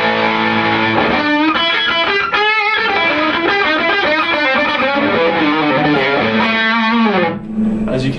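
An electric guitar through an Egnater Tweaker amp on the hot gain setting, gain near one o'clock, plays a loud distorted riff of chords and single notes that rings out and cuts off near the end.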